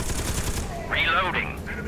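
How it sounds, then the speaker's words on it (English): A turret fires in the Scourge Outbreak video game, a quick burst of gunfire under a busy game soundscape, loud and close for about a second. "A turret you can shoot people with."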